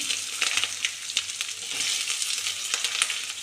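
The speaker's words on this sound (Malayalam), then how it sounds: "കടുക് കൂട്ടിയിട്ടുണ്ട് നമുക്ക് വെളി ഇഞ്ചി ഇട്ട് കൊടുക്കാം അതിലൂടെ തന്നെ ഉള്ളിയിടാം പച്ചമുളക് ഇട്ട്" Mustard seeds, ginger, onion and green chili sizzle and crackle steadily in hot oil in a pan, a dense bright hiss with scattered pops and faint stirring, close and fairly loud with no voices.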